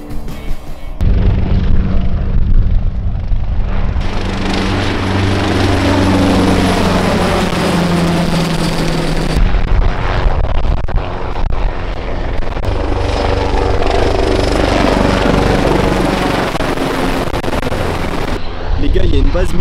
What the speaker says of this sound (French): il y a un hélico militaire, mais j'ai jamais vu ça de ma vie, qui fait que tourner au-dessus de nous